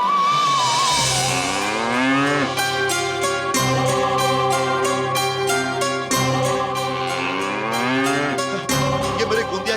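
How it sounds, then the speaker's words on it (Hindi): A bull lows in long, rising and falling moos, calling out over steady rhythmic devotional music in the background. "ये मेरे गोंदिया की आवाज है गुरुजी। वो मुझे पुकार रहा है गुरुजी।"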